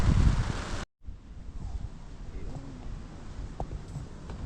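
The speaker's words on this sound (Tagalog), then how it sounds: "Biglang lalong lumakas yung hangin" Strong wind roars briefly up close at a fishing spot, then after a short cutout continues as a softer, gusty rush with faint rustling and occasional knocks.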